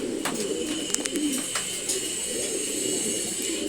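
Male pigeons give continuous low, throaty cooing nearby, with a few sharp clicks and flutters scattered over the steady murmur.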